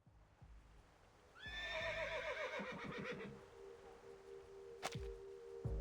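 In the Reverse 1999 video game a horse whinnies clearly and fairly close, one long descending neigh over soft hoof clops, followed by sharp, brief impact sounds.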